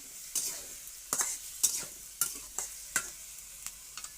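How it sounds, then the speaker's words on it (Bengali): Radish being stir-fried in a pan with a spatula, giving about eight sharp scraping strokes in an irregular rhythm over a faint, steady sizzle, close and moderately loud with no voices. "এখন কষিয়ে নেব মূলা"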